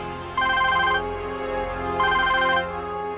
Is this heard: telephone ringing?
yes